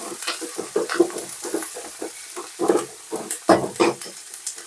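Ginger, garlic and onion sautéing in a pan, with steady close sizzling and repeated scraping strokes of a spoon stirring in an uneven rhythm, no voices.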